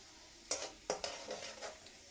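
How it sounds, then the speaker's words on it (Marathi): Garlic and spices frying in a pan, stirred with a utensil, giving a few distinct scraping clinks over a soft, steady sizzle, close by and fairly quiet. "तर आपण हलवत राहायचं, जेणेकरून आपले मसाले करपणार नाहीत."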